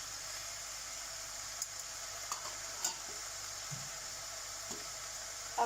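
Salt, turmeric and other spices sizzle quietly in a hot pan for a broad bean curry, a steady soft hiss broken by a few faint clicks and pops, with no talking.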